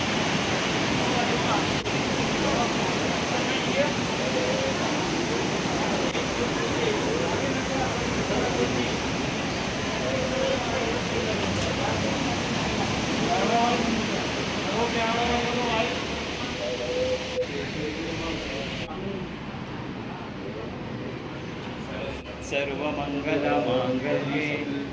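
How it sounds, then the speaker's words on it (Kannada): The Saraswati river flows full at Mana village, India, as a steady, dense rushing roar of water lasting throughout, with faint voices occasionally showing through the noise. "ತುಂಬಿ ಹರಿತಾ ಇದ್ದಾಳೆ ಸರಸ್ವತಿ"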